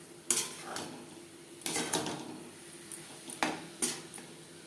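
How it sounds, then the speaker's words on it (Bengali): A utensil stirs semolina (suji) in a pan while water is added, making irregular scrapes and metallic clinks at close range against a low, steady hiss, with no talking. "অল্প অল্প করে জল অ্যাড করে সুজি নাড়াচাড়া করতে হবে।"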